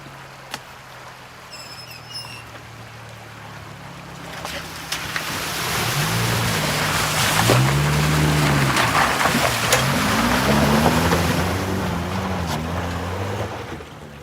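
A Suzuki off-road vehicle heads up a rough track toward a mine, its engine swelling louder about halfway through into a rising, wavering drone with wind buffeting the microphone.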